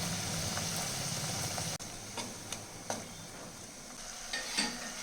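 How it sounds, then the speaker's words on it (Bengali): Ground cumin and coriander powder, with salt and turmeric, fry in a pan as a steady soft sizzle, close but quiet, with a few faint scrapes and taps of stirring over it and no talking. "মশলাটা অনেকটা ভাজা হয়ে গেছে"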